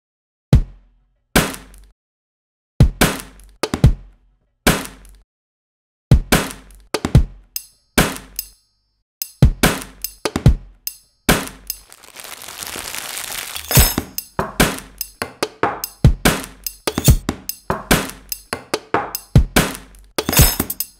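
Spoons clink and knock against a bowl of tarator soup in a rhythmic percussion pattern, sharp clicks starting sparse and becoming dense and steady, with a brief splashy wash midway; no talking.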